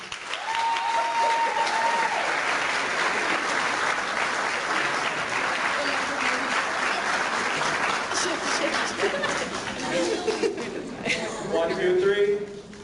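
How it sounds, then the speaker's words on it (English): An audience at an education event gives a round of applause, dense and sustained clapping throughout, with voices, cheering and light laughter mixed in toward the end. "So please join me in a round of applause."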